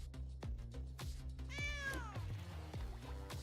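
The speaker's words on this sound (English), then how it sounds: "I love how you still get the old cat sound from like the very beginning of the game" A single cartoonish cat meow from the MTG Arena card game plays clearly in the middle, surrounded by repeated soft thumping and clicking interface sounds, with no talking.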